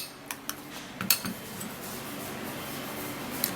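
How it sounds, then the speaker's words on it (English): A spoon clinks and scrapes against a bowl while a homemade armpit-lightening remedy is stirred, giving a few light taps and chinks early on and then a faint, steady mixing noise. "You mix it all up really good"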